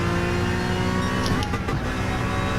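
A 2017 Honda NSX Group 4 race car on race tires in Gran Turismo, its engine droning steadily and loudly with a brief change in tone midway, no voices.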